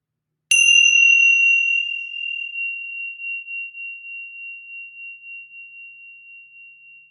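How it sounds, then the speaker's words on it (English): A pair of well-made tingsha cymbals struck together gently gives one bright ring that sustains for several seconds, pulsing as it slowly decays, alone in silence. "the sound of a tingsha, if you have a well made tingsha, that is, lasts for quite a while"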